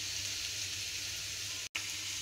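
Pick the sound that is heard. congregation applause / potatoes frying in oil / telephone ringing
potatoes frying in oil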